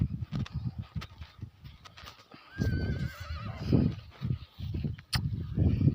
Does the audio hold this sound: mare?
yes